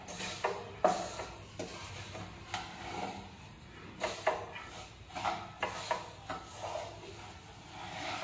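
Spatula stirring a thick kaju katli mixture of cashew and jaggery in a pan, with repeated scraping and rubbing strokes at an uneven rhythm, close and moderately loud, with no voices.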